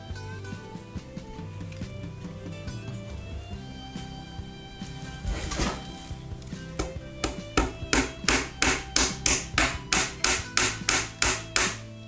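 A small metal mini awl is tapped into wood on a Flying Dutchman model ship kit in a steady series of sharp knocks, around a dozen evenly spaced hits that grow more distinct toward the end.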